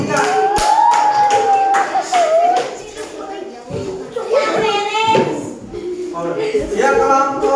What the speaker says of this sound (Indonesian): Itu tepuk tangan untuk kelompok 3.